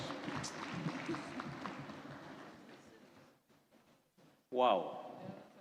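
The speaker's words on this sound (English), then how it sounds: "A round of applause." An audience applauds at a parliamentary induction seminar in Uganda, a dense, steady patter of clapping for a few seconds that fades out, with a voice heard speaking over it.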